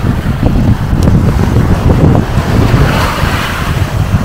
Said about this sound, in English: A lot of surf in there.